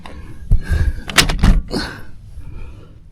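A refitted back door, a tight fit with a part sticking out, is pushed shut in a few close, heavy thuds and knocks against its frame, followed by a quieter rustle.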